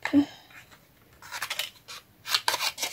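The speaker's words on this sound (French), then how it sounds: "Allez, on va découper ça." Scissors cutting paper for a handmade shabby-style card and bookmark, close, soft snipping and rustling strokes in short bursts with no talk.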